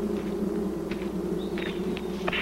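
African bees swarm around a hive fitted with queen excluders, giving a steady, dense buzzing drone throughout, with a few brief higher whines from individual bees passing close.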